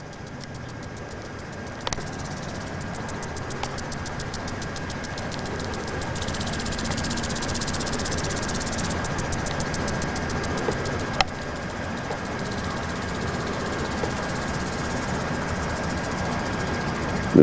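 A Bedini rotary magnetic motor unit spins with a steady mechanical whir and faint rhythmic ticking, continuous and moderately loud, with a couple of sharp clicks and no speech.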